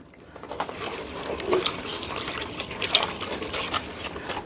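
Water pours steadily into a container, a continuous splashing gush that rises and falls slightly.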